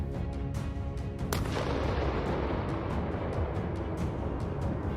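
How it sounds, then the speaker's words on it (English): Kamikaze drone strike on a building sheltering Russian soldiers, heard as a sharp blast followed by sustained rumbling, crackling debris and scattered pops, loud and continuous throughout. "The bomb-laden drone caused such a huge explosion that no soldier survived it."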